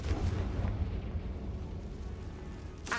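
A Confringo blasting spell in a Harry Potter video game sets off a deep, rumbling explosion that rolls out and slowly fades.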